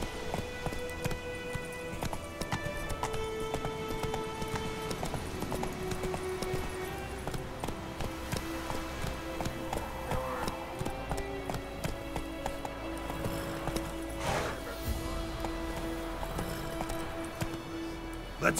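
Roach, the player's horse in The Witcher 3, gallops in a steady rapid hoof rhythm, loud and close, layered over game music and ambient sound.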